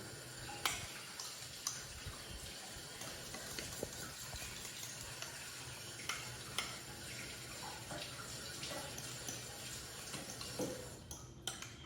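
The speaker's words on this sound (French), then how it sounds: "Je vais rincer le pinceau." Steady tap water runs into a sink while a paintbrush is rinsed during cake-making, a continuous broadband wash with a few small clicks and knocks, no talking.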